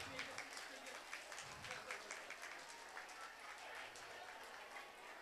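Schoolgirls clap at a school prize-giving ceremony, a faint, scattered patter of hands heard at a distance, uneven and thin, with a little background stir in the hall.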